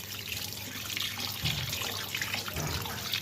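Running tap water pours steadily over raw sheatfish being washed in a sink, a constant moderate splashing hiss with brief louder gushes as the fish is moved under the stream, no voices.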